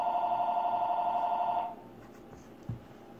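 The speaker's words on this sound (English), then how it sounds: "before I was so rudely interrupted by a phone call" A telephone rings with a steady electronic tone for about a second and a half, then stops, followed by quiet room noise and a single soft thump, close and moderately loud with no speech.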